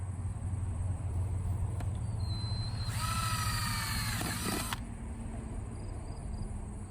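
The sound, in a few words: drilling holes with 13/64 drill bit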